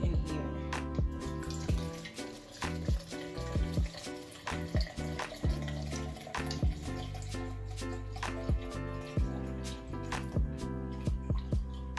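Liquid is poured into a measuring vessel while a herbal tincture of white willow bark is prepared, giving a close, gurgling pour with irregular splashes and drips against a tonal hum.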